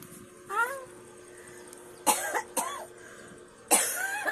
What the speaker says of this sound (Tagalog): Ay, umuubo si Lola.